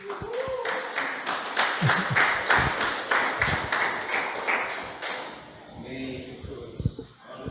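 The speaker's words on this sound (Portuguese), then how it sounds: "Você pode dar uma salva de palmas para Jesus?" A church congregation breaks into applause, a dense burst of many hands clapping that lasts about five seconds and then fades, with voices rising afterward.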